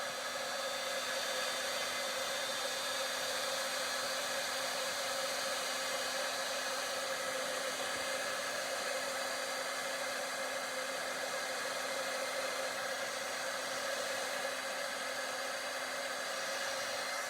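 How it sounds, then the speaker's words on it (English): A heat gun blows steadily to melt shimmer embossing powder, a continuous airy whoosh with a faint hum, held at an even, fairly quiet level throughout with no pauses. "Got to turn the heat gun on to get it to melt"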